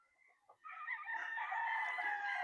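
A Boston Roundhead Cross gamefowl rooster crows once, a long, drawn-out call that rises and holds, fairly close, after a few soft clucks at the start.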